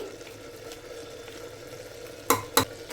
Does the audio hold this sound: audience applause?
no